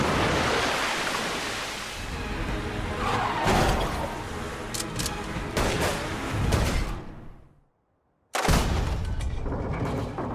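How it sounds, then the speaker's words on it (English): A car forced off a forest road and crashing, with a loud rushing, skidding roar and bursts of impact noise, then a sudden cut to silence before another burst of loud noise returns. "causing a violent crash."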